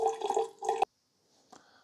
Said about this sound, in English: We'll just let it finish until it stops draining out there.